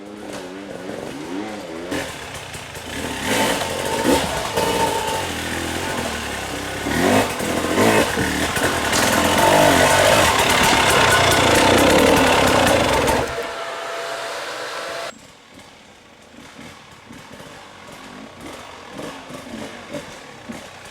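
A motorcycle ridden hard on a practice trail at Wellsville during TKO practice, its engine loud and close, revving and roaring steadily for about fifteen seconds before dropping away to a quieter background.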